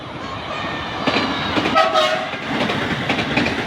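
A new KRL commuter train in Jakarta rumbles past close by with rattling wheels, and its horn sounds briefly midway through the pass.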